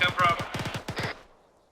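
Machine gun fire in a video game comes as a rapid burst of about seven close, sharp shots that stop abruptly, followed by a fading tail.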